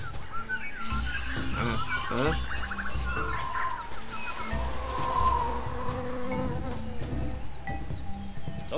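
Bees buzzing in a noisy jungle in the video game Tales of Monkey Island, a layered insect drone mixed with chattering animal and bird calls, loud and continuous.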